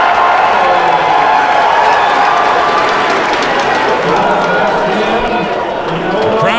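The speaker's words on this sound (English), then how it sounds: "Crowd certainly behind Phil Ivey here." Dense roar of a poker tournament crowd cheering for Phil Ivey at a high-stakes hand, sustained and loud throughout with broad noise from many voices.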